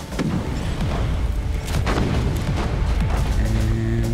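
A grenade blast rings out in Warhammer 40,000: Inquisitor - Martyr, one of several heavy booms and bursts in a dense run of combat fire, loud and close.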